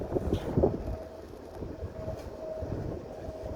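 An old windmill spinning outdoors, giving a steady low mechanical rumble with wind buffeting the microphone, a few brief knocks near the start, moderately loud and without speech.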